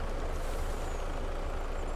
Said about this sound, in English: Here come the trucks as well